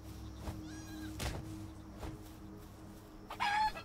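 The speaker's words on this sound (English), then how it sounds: "Take this chicken too." A chicken in the video game Palworld clucks a few times, with short scattered calls over steady game background noise and a louder burst of clucking near the end.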